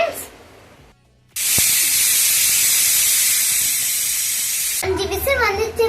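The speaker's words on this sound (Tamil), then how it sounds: "5 விசில் வந்துச்சு ஃப்ரெண்ட்ஸ்." A pressure cooker of mutton curry with drumstick and potato lets out a loud, steady steam whistle for several seconds after a brief quiet, then cuts off into faint kitchen clatter.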